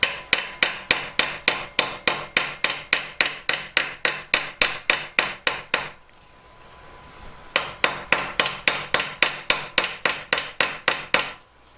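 A hammer repeatedly strikes silver to flatten and stretch the fingers of a hand sculpture, with sharp, loud, evenly spaced metallic blows close by, a pause of about a second and a half, then another steady run of strikes.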